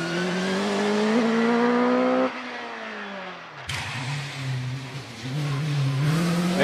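A Dallara Formula 3 race car from 1994 being warmed up at a Prescott hill climb, its engine revving high and steady, then cutting off abruptly before rising again in rough, fluctuating bursts.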